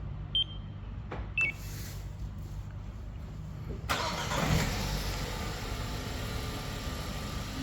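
A Renault Samsung SM6 is started by a Magic Car Gold 8 remote starter: two short beeps, then the engine catches with a rising rumble and settles into a steady idle, heard close with no talk.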